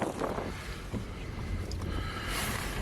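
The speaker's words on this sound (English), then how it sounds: "It's been very, very windy, very blowy, very cold when we first got here" Wind blowing hard at the beach at Half Moon Bay, a continuous rumbling roar with gusty buffeting on the microphone and a faint hiss of surf behind it, no voices.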